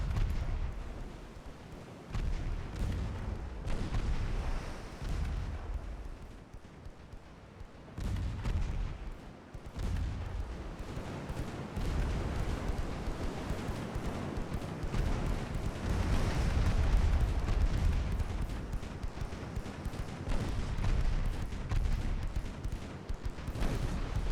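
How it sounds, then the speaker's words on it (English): Heavy naval gunfire from Ultimate Admiral: Dreadnoughts rumbles in repeated deep booms and salvos over about twenty-four seconds, loud and sustained, with shells landing amid continuous battle noise. "Oh, we're taking return fire."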